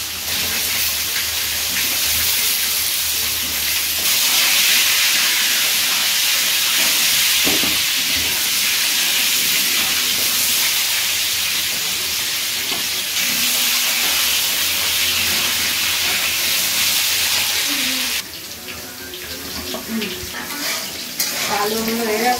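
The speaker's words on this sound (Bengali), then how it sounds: "আলু দিয়ে দিচ্ছি, আলুগুলো একটু নেড়ে চেড়ে ভেজে নেব হালকা করে।" Potatoes fry and are stirred in a pan, making a loud, continuous hissing sizzle with occasional scraping of the spoon, close up and alone, easing slightly near the end.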